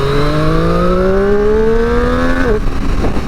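A 2020 Triumph Street Triple 765RS motorcycle pulls hard in second gear, its engine note climbing steadily and loudly up close for over two seconds before the revs cut sharply and fall away.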